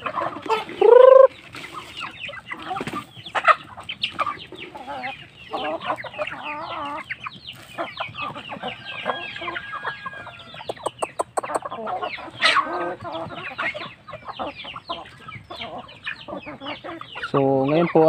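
Shamo and aseel chicks on a farm cluck and peep almost constantly, with one loud rooster crow near the start and overlapping bird calls throughout, fairly close.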